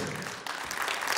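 A concert audience applauds with a thick, even wash of clapping that holds steady throughout, moderately loud and without talk.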